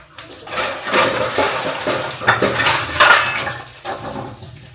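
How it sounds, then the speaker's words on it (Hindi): Dishes washed by hand under a running kitchen tap: steady rushing water with repeated clattering of utensils and pots, loud and close, no talking. "पहले बर्तन धो लूँ"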